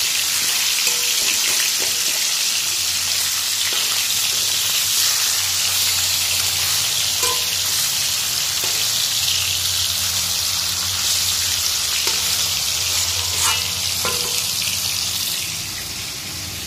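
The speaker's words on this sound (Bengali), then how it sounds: "আর এখানে দেখো মাছগুলো ভাজে দিয়েছি" Fish fry in hot oil in a home kitchen, a steady loud sizzle and crackle that runs continuously throughout with a few faint clinks and taps, fading slightly at the close.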